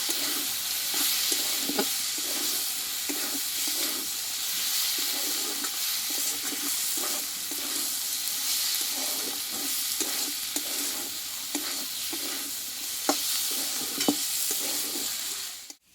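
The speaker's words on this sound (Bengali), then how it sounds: "এবার তেল আর পোস্তটা দিয়ে আমি আরও কিছুক্ষণ শাকটাকে ভেজে নেব" Red amaranth greens fry with white oil and poppy seeds in a pan, a steady sizzle broken by regular rhythmic stirring scrapes for the whole stretch, ending abruptly, with no speech.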